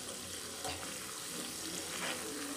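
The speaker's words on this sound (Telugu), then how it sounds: "ఇదిగో చూసారా, గోల్డెన్ కలర్ ఫ్రై అయిపోయింది." Grated carrot fries golden in a pan for curd carrot rice, a steady close sizzle with a watery, tap-like hiss that holds at an even level throughout, with no talk.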